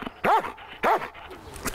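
A dog gives two short, sharp barks in quick succession, close and loud, with quiet pauses between them.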